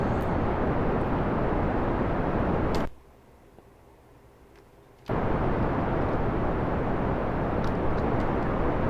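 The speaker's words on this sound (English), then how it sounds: "T, full throttle, blast off." A rocket launches at full throttle in Kerbal Space Program, giving a loud, steady, broadband engine roar. The roar cuts out for about two seconds partway through, then resumes just as loud.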